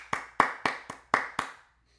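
Hands clap six times in a steady, even rhythm, sharp and close, ringing briefly in a room, with no voices.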